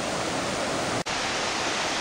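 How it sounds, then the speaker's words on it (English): Falls Creek Falls, a tall waterfall, gives off a steady, dense roar of falling water that holds evenly throughout, broken only by a momentary dip near the middle. "this is Falls Creek Falls. And it's really tall."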